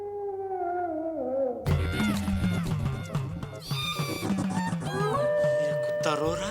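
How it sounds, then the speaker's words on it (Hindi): A dog's drawn-out, wavering howl rises and falls in a TV comedy scene, then gives way to busy, loud tonal sounds layered with other noise. "ये कुत्ता रो रहा है"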